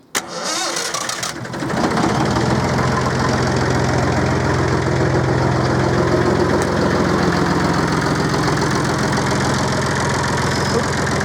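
An Aveling Barford GRV road roller's engine cranks and catches within the first two seconds, then settles into a loud, steady close idle with a low rumbling drone and faint knock that continues unchanged as the water-sprinkler pump is engaged.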